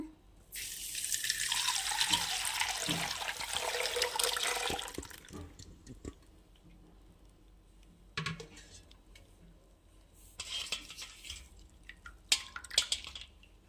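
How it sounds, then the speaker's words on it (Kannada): Freshly squeezed star fruit juice pours through a strainer as a steady splashing rush for about five seconds, then thins to scattered drips and faint clinks. "ಈಗ ಫಸ್ಟ್ ಹಿಂಡಿಟ್ಕೊಂಡಿದ್ವಲ್ಲ ಹಣ್ಣಿಂದ ರಸನ ಅದನ್ನು ಈಗ ಒಂದು ಇದರಲ್ಲಿ ಸೋಸ್ಕೊಳ್ಳೋಣ."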